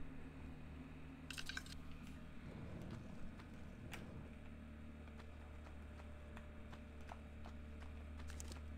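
Horse hooves clop in the Tomb Raider 1 video game, faint and intermittent against a low, steady game ambience, with a few sharp clicks scattered through.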